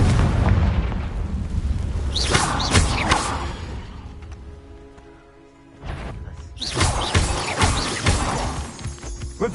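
Spell blasts in the Hogwarts Legacy video game, a fire-curse explosion among other casting effects: two loud booming bursts with crackling tails, separated by a brief quieter stretch, under layered game music and ambience.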